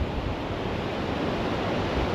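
Ocean surf breaking on a beach in Vietnam, a loud, steady wash of rushing water and hiss close by, with no talk.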